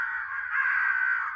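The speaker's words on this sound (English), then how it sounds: "We just had about 10, 15 crows above us" A single drawn-out crow caw rings out close overhead during crow season, harsh and nasal, lasting over a second with no voices around it.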